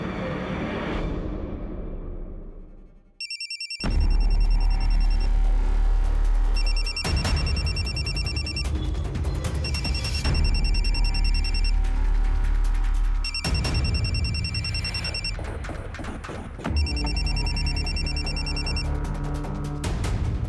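A telephone rings loudly in repeated electronic bursts with short gaps between them, after a brief rustle and a moment of silence at the start.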